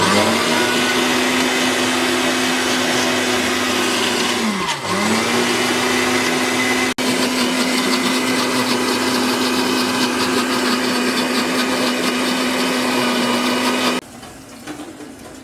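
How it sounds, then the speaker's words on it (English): A blender whirs loudly and steadily blending butter chicken sauce, its motor pitch dipping briefly once as the load shifts, then cutting off near the end. "we pulled out the other blender"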